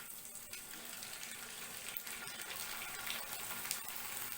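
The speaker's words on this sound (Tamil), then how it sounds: "நம்ம வத்தலை போட்டு வறுக்கலாம்." Dried vathal fries in hot oil inside a cooker, giving a dense, steady hiss and sizzle with fine crackles, continuous and fairly close.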